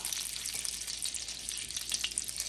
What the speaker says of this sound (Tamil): இப்போ இந்த பட்டர் எல்லாத்தையும் மெல்ட் பண்ணிடலாம்.